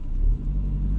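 A car engine runs smoothly on a night drive, a low, steady rumble with a slight dip partway through, close and fairly loud inside the cabin.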